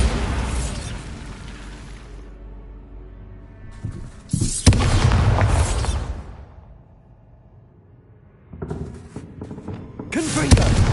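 Explosive Bombarda spell blasts in Hogwarts Legacy: a heavy boom near four seconds that rumbles for about two seconds, then a quieter lull, and further bursts near nine and ten seconds.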